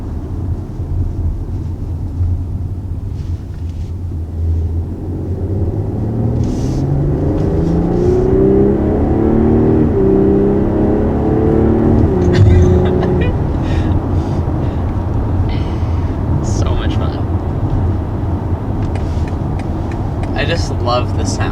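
A 2020 BMW X3 M40i SUV accelerates hard from inside the cabin, its engine drone rising in pitch through gear changes before settling, with occasional faint voices.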